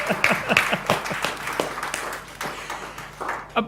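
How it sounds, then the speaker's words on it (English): Audience applause at a book launch, a steady patter of many hands clapping close by, holding fairly even for several seconds with a brief lull near the end. "Can we create a huge round of applause for Warren French?"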